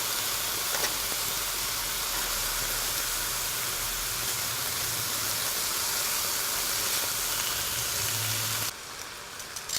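Beef pieces browning in a hot pan for a pumpkin and cashew nut paleo curry, giving a dense, steady sizzle and hiss with no talking, cutting off abruptly near the end.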